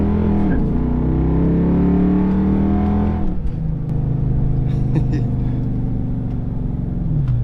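A Dodge Charger engine revs hard and loud, a rising roar that drops back to a steady, deep idle rumble partway through, recorded close up with no talking.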